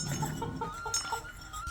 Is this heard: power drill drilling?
no